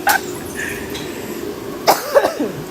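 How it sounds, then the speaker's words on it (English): A sick person coughs sharply two or three times near the end, loud and close after a quiet stretch of low room noise and a brief earlier cough-like burst. "And I'm sorry about my cough."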